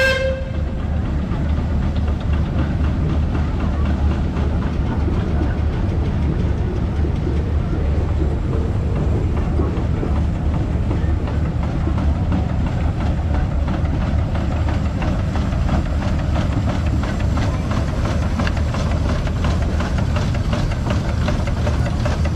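A large-boilered steam traction engine from Ralston, Oklahoma runs at the Oklahoma Steam and Gas Show, giving a loud, continuous rumbling chug with rapid mechanical knocking that holds steady throughout.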